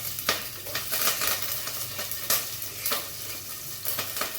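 Chillies sizzle in hot oil with cumin and asafoetida for batata poha, a steady bright frying hiss broken by irregular scraping stirs of a spoon in the pan, close and fairly loud.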